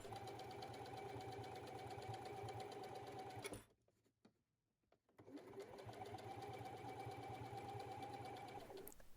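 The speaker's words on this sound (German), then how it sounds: "Das wird nun zusammengenäht." A sewing machine stitches a fabric strip onto a crossbody bag, a fast steady mechanical whir that stops for about a second and a half, then resumes at the same pace, close up with no talking.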